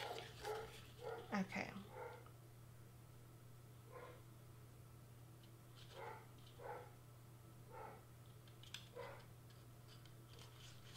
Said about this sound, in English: and excuse my dog.